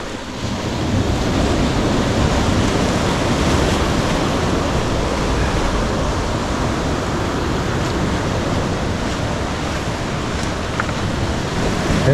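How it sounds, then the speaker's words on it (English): Ocean surf surges continuously at College Cove in Trinidad, California, during a king tide with sneaker waves, a loud, steady roar of breaking water mixed with wind buffeting the microphone, no voices. "here comes another one. We've had sneaker waves all week"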